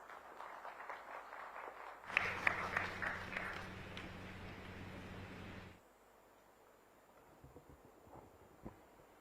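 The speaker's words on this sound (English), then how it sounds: "Let's welcome him with a round of applause." An audience at an official MoU signing gathering in Odisha applauds faintly and from a distance. A few seconds of soft clapping swell up and then fade back into quiet room ambience.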